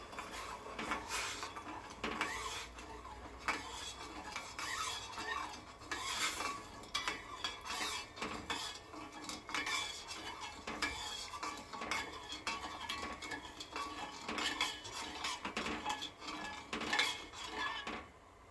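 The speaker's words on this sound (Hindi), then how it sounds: "इसको बस ऐसा मिक्स करूंगी" Sugar and two whole green cardamom pods are stirred in a pot for Shahi Tukda syrup. A spoon scrapes and clinks against the metal in a steady, continuous rhythm that stays fairly quiet, with no talking.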